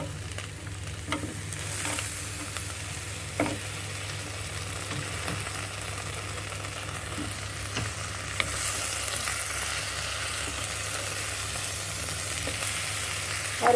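Potatoes fry with achari masala in a pan, giving a steady close sizzle with occasional light scrapes and taps throughout, with no voices.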